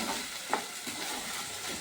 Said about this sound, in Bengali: চালটাকে একটু ভাজা ভাজা করব